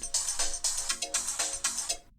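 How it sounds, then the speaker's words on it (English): A phone ringtone plays over dialogue in a repeating pattern of bright chiming bursts, roughly four cycles in quick rhythm, clear and fairly close, then cuts off abruptly at the end. "This is dialogue with ringtone 10."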